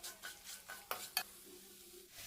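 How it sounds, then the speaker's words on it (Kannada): Grated coconut frying in a pan for a chicken liver and gizzard curry, quiet sizzling broken by several sharp scraping strokes of a spoon stirring against the pan. "ತೆಂಗಿನಕಾಯಿ ತುರಿನೂ ಅಷ್ಟೇ ಸ್ವಲ್ಪ ಚೆನ್ನಾಗಿ ಫ್ರೈ ಮಾಡ್ಕೊಳ್ಳೋಣ."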